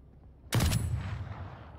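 A single sudden loud blast from a gun in a video game, sharp onset after brief quiet, then a rumbling tail that slowly fades.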